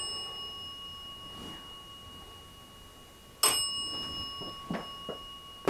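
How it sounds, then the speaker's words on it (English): A bell rings faintly inside a haunted hotel room, a sustained ding whose tone hangs in the air, followed by a few sharp knocks and clacks in the quiet room. "If you ring that bell again, I'll step out if that's what you want, okay?"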